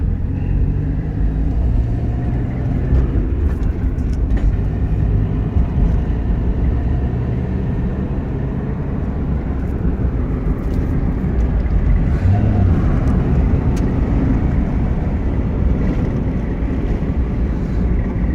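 A 1990 Mazda Miata with a manual gearbox drives along, heard from inside as a steady low engine and road rumble with some wind buffeting, and no clear talk.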